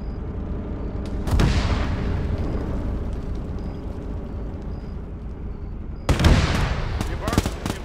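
Two heavy booms of artillery fire in ArmA 3 roll out with long rumbling tails, the second followed by scattered sharper cracks, set over a continuous low background.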